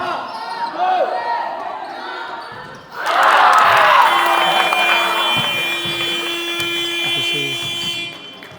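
At a basketball game, a steady buzzer tone sounds over a loud, roaring crowd, with voices and bouncing ball noises mixed in.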